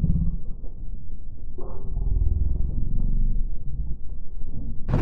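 Thunder from a heavy thunderstorm: a deep, low rumble that rolls on steadily for several seconds, ending in a sudden brief hiss.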